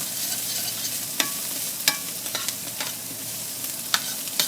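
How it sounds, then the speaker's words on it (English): Diced onions and tasso sauté in a pan kept moving over the heat, an even close sizzle punctuated by sharp, irregular scrapes and taps as the pan is shaken and stirred. "You just want to keep the pan moving so your onions don't start to burn."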